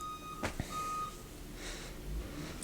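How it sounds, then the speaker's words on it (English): An Amazon Prime delivery truck backs up outside, its reversing alarm beeping faintly and intermittently at a distance over a low hazy background. "That's the Amazon Prime truck that just dropped off my package."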